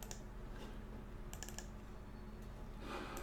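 Keys tapping on a PC computer keyboard, quiet and intermittent with a few clustered clicks over a low steady background hum, no voices.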